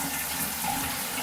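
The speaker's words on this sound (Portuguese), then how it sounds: "A pressão vai quase a zero aqui e a vazão do chuveiro diminui bastante" Shower water runs steadily through a tankless water heater at reduced pressure, a soft continuous hiss of flowing water with no breaks.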